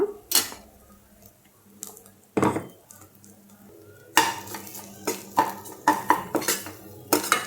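A spoon scrapes and clanks against a pan while bitter gourd fry is stirred with garlic chili powder, in sharp, irregular metallic knocks that grow busier toward the end, with a faint sizzle underneath and no speech.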